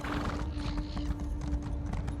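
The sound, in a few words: horse hooves in video game Elder Scrolls Online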